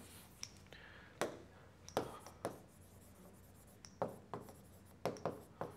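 Chalk or marker strokes writing a word on a board, a series of sharp scratchy taps and short strokes in quick irregular bursts, close and fairly quiet, with no talking.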